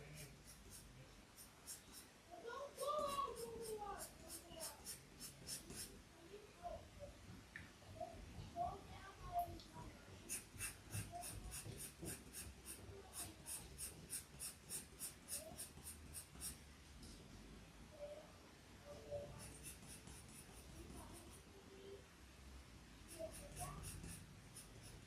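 The softest graphite pencil shades dark areas of hair on paper, making faint, close scratchy strokes in repeated bursts against a quiet room.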